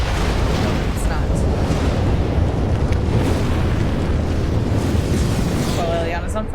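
Loud, steady roar of fire from a trap burning a character in the video game Dragon Age Origins, set in Denerim, a dense crackling rush that fills the whole span with brief voice fragments near the end.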